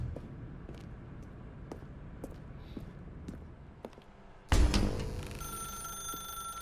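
Telephone ringing inside the video game The Stanley Parable, a sudden loud ring bursting in over quiet ambient game sound with scattered faint ticks and steps, then sustaining its bright tones to the end.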